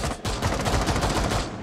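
Rapid automatic gunfire from Rainbow Six Siege gameplay, a dense, loud continuous burst of shots with no pauses beyond a brief gap at the start.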